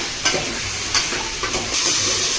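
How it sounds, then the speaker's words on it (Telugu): Drumsticks fry in oil with turmeric, making a close, steady sizzle with a few spaced scraping stir strokes, and the frying grows a little louder near the end. "ఇది కొద్దిసేపు ఫ్రై అవ్వాలండి, అప్పుడే బాగుంటుంది."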